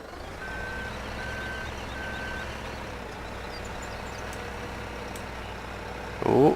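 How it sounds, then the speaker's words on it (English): A telehandler in Farming Simulator 17 idles with a steady low engine drone while its reversing alarm beeps three times, followed by a brief louder mechanical clunk at the end. "doing a wheelie in the telehandler"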